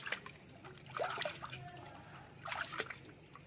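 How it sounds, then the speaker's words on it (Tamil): A hand stirs medicine into a water tub meant for bathing pigeons, giving soft swishes and trickles that come in two brief bursts over a faint background. "இப்போ நான் என்ன பண்ண போகிறேன்னா நல்லா வந்து கை விட்டு ஒரு டைம் கலக்கிறேன்."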